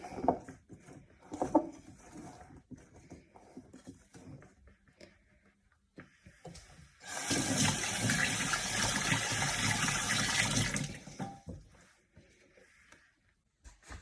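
Water poured into a bowl of flour, salt and sugar for Sri Lankan fish bun dough, a steady close gushing splash lasting about four seconds, set between quieter scattered kitchen clatter and handling sounds.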